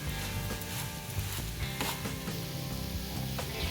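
Sweet semolina sheera sautéing with sugar in a pan, a steady close sizzle with occasional scraping stirs of the spoon against the pan, no talking.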